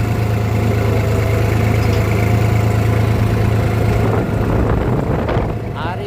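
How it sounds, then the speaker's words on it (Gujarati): A New Holland 5510 4x4 tractor ploughs a field in medium first gear, its diesel engine holding a steady, loud, low drone at close range that eases slightly near the end. "આપણે 10:30 11 RPM ઉપર ચાલે છે ટ્રેક્ટર."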